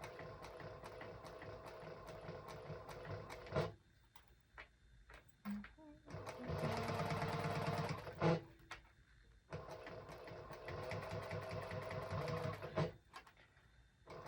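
A domestic sewing machine runs in steady bursts while stitching around a small fabric wristlet, a rhythmic mechanical chatter close by, broken by a softer middle stretch with brief clicks and handling noise.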